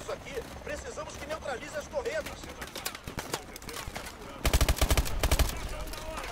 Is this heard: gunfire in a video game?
yes